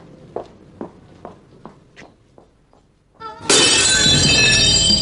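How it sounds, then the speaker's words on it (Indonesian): A dropped key strikes the floor and shatters, preceded by a series of soft footsteps or taps, then a sudden loud crash that rings and rattles on for over a second. "Kunci kesayangan almarhum Bapak jatuh sendirinya"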